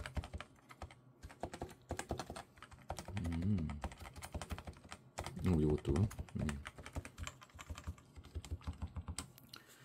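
Typing on a Topre Type Heaven keyboard, its keys giving a rapid run of soft, close clicks and thocks throughout, with someone speaking briefly over the keystrokes in two spots.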